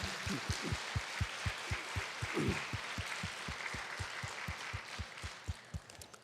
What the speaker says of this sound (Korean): 우리 모든 분들께 감사하는 마음으로 큰 박수로 격려하겠습니다.